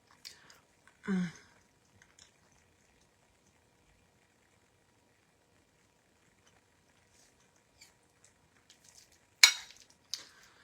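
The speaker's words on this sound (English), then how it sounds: "Mukbang sauce I am eating." Chewing while eating mukbang sauce: a single brief wet chewing burst early on, then near silence, with a few louder crunchy bites near the end, close and intimate.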